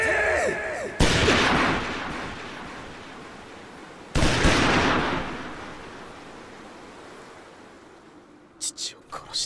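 A volley of gunfire erupts on an order to fire, then a second volley follows a few seconds later. Each is a loud, broad blast that rolls off in a long fading echo, with faint sounds near the end.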